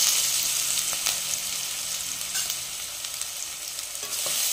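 A ground paste of garlic, green chili and ginger sautés in a pan over lowered heat for matar pulao, making a constant bright sizzle with light stirring taps near the start and end.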